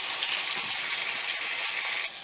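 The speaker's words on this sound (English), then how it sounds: "frying the onions till they become brown" Steady, loud sizzling of sliced onions frying in hot oil until brown, a continuous hiss that fades slightly at the end.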